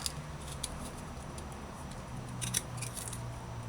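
Fresh ginger being peeled and scraped with a knife, soft close scratchy rasps in short irregular bursts over a faint background hum.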